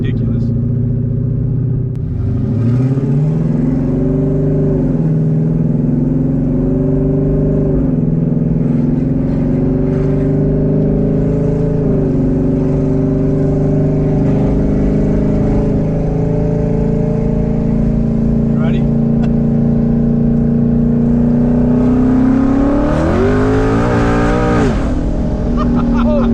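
A twin-turbo Ford Mustang engine revs hard under boost, its loud throaty drone rising and falling in pitch through several pulls with a sharp climb near the end, close by and continuous.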